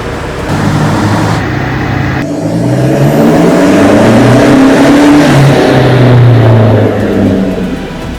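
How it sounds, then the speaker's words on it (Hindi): Toyota Fortuner, one of the fastest in India, strapped onto a dyno and revving hard in third gear; a loud, sustained engine roar rises and falls in pitch through several surges, close and continuous with no talk. "और अभी गाड़ी स्टार्ट कर रही है, पूरी स्ट्रैपिंग कंप्लीट हो चुकी है, इसकी पावर की actual testing, Dyno testing start करेंगे"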